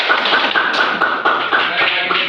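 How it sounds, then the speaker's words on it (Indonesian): Group applause welcoming group 2 in a classroom, a dense run of fairly near hand claps with a few sharper beats standing out, steady throughout the short stretch. "Kita sambut kelompok 2 dengan tepuk tangan."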